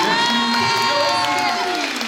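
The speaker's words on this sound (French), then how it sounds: "Vous pouvez applaudir très fort Lionel Stigeti" A packed Paris cinema crowd at the Grand Rex film premiere cheers and whoops, high shouts and excited voices rising over a loud crowd roar, with some clapping blended underneath.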